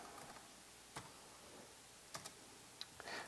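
Keys on a computer keyboard are typed faintly and sparsely, a few soft, scattered clicks against a quiet room background.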